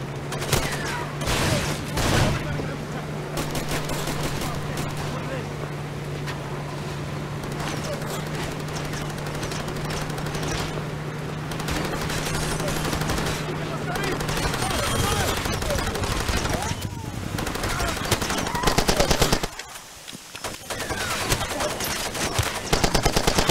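Gunfire in the Far Cry 2 video game, bursts of rapid automatic shots and scattered single cracks sounding repeatedly over a steady background hum, while someone talks intermittently over the action.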